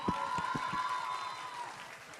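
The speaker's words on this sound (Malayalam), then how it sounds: "എല്ലാവരും ഒരു കയ്യടിയും കൂടി കൊടുത്തേ" An audience claps after a dance performance, a short burst of scattered applause in a hall while a tonal hum or music lingers underneath.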